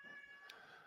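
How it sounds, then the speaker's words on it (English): A house cat meows once, briefly and fairly close, cutting through a steady indoor hum with quiet background noise. "Shut up, cat. Cat wants to chime in."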